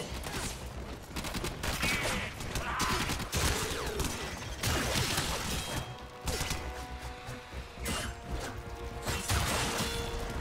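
Chaotic Warframe combat on Apollodorus: bursts of gunfire, crashing impacts and grenade blasts overlap almost without pause, loud and dense for the whole stretch, with no clear talk.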